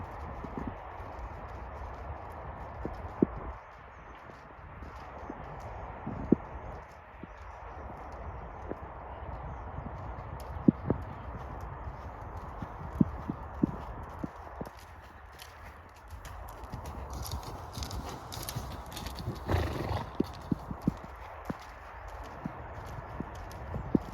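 A horse cantering over single jumping rails in a home warm-up, its hoofbeats drumming steadily and close throughout with occasional sharper thuds above a constant outdoor rumble.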